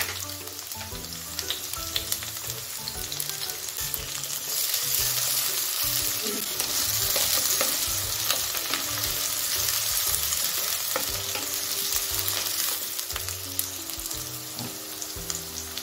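Potato, onion and capsicum stir-fry in a hot pan for veg fried rice, a loud, continuous sizzle with frequent scraping stir noises throughout.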